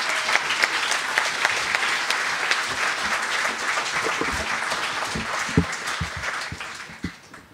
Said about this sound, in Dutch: jullie mogen ze verwelkomen met een hartelijk applaus